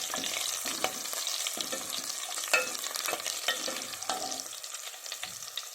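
Ingredients for palak (spinach) khichdi frying in a pan with a steady, close sizzle, broken by repeated scraping strokes as they are stirred; no voices.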